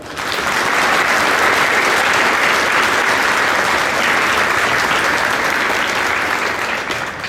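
Sustained, loud applause from a large crowd for veterans at a Veterans Day program, steady clapping that swells in and holds for several seconds with no talking.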